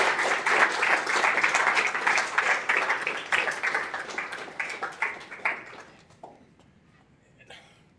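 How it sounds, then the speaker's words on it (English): An audience at a functional programming talk applauds after a presentation, loud dense clapping that gradually thins and fades out over several seconds. "Give a big round of applause to Jordan for that wonderful presentation."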